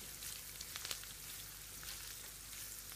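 Fried meatballs sizzling in a pan as dried mint goes in, a constant bright hiss with faint crackles, close and steady, no talking.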